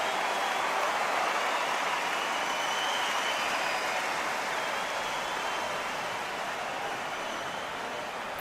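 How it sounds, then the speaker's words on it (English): A virtual arena crowd in the boxing game Undisputed reacts to a draw with a broad, steady wash of murmuring and booing noise, fairly faint and unbroken with no talk over it. "Ooh, listen to that crowd. Nobody's happy with that."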